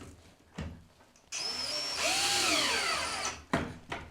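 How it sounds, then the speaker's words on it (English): A screw gun drives screws into an IKEA kitchen cabinet, whining for a couple of seconds with rising and falling pitch, framed by short knocks and clunks of handling before and after. "I'm using proper screws now, ones that stick to your screw gun"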